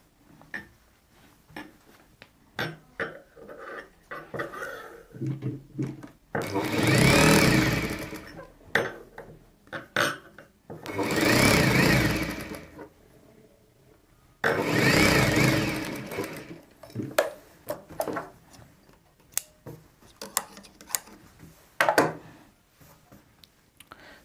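A sewing machine stitches a heavy-work Rajputi poshak in three loud sustained runs, separated by quieter rustling and handling of the cloth.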